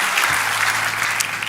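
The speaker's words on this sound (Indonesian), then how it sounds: "Kita beri tepuk tangan mari meriah buat Yesus Tuhan kita." Audience applause fills a church service in Jakarta, a steady dense burst of clapping lasting about a second and a half.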